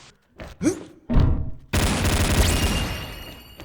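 Gunfire in the online shooter XSHOT: a couple of sharp single shots followed by a sustained loud burst of automatic fire that continues to the end.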